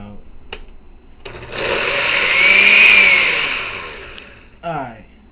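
A blender or food processor motor whirs for about three seconds while trying to shred BBQ chicken, swelling and then fading. A voice speaks briefly before and after.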